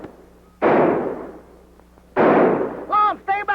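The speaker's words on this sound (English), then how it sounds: "Tell them to keep shooting, Abner." Gunfire in a 1942 comedy film: two loud, booming shots about a second and a half apart, each followed by a long fading rumble. A voice speaks briefly right after the second shot.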